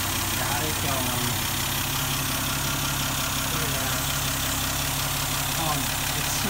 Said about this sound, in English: It sounds amazing too. This engine sounds amazing.